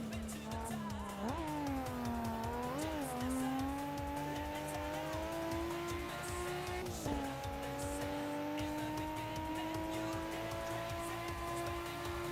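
Gojira race car in a racing video game, its engine droning steadily through corners, pitch rising and dipping with gear changes and throttle, with tire squeal, continuous and loud throughout.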